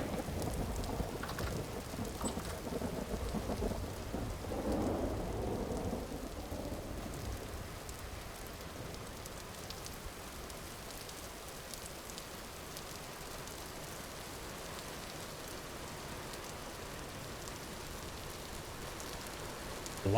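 Storm ambience from the video game Vintage Story during a light temporal storm: steady rain hiss with a low thunder rumble swelling early, then continuous moderate rainfall without speech.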